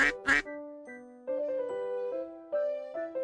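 Several ducks quack in quick succession, close and loud: two sharp calls at the start, then a string of nasal, tonal quacks that overlap and run on with no voices in between.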